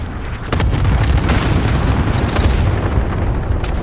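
Heavy bomb explosions rumble in the video game Modern Warfare, a loud, deep boom that rolls on continuously after a sharp onset, with no talking over it.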